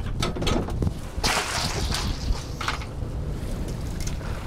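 Hard wind buffets a small fishing boat out bottom fishing, a loud steady roar of gusts against the microphone, mixed with slapping and whipping sounds, close and continuous.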